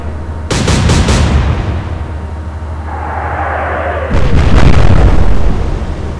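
Naval shells are fired and burst in the Atlantic Fleet battle game: a loud booming salvo, a falling whistle, then a second heavy explosion that rumbles close and long.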